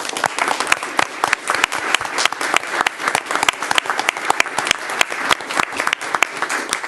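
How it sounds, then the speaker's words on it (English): A city council meeting audience applauds firefighters with a round of close, distinct hand claps, irregular and fairly loud, continuing for about seven seconds. "So let's give our firefighters a healthy round of applause."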